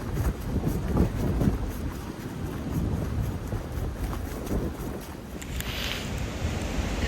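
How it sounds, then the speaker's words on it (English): Wind gusting across the microphone on an icy Appalachian Trail mountain path, a continuous loud rumbling buffet with uneven surges throughout, no voices. "It's windy and it's cold."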